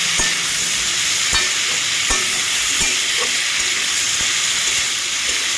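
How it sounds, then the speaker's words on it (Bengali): Hog plum pieces with salt and turmeric sizzling and frying in a pan, a constant loud hiss broken by regular scraping strokes as they are stirred. "ভালোভাবে আমি আমড়াটাকে ভাজা ভাজা করে নেব"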